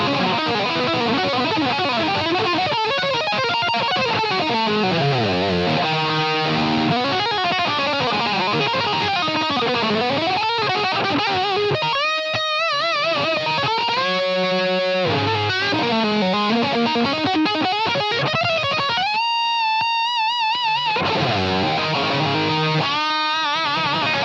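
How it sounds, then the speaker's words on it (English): Heavily distorted electric guitar through a Boss ME-8 multi-effects unit plays a long, busy passage, loud and saturated with a buzzy, Metal Zone-style midrange, with brief pauses between phrases. "But I like this one, the heavy distortion."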